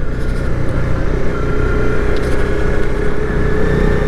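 Honda CB300R motorcycle engine roaring steadily as it accelerates, loud and close with strong wind rush and a rising drone, no talk over it.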